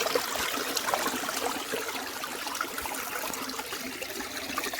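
A small backyard waterfall trickles and splashes steadily, close by, a continuous bright rush of falling water with no voices.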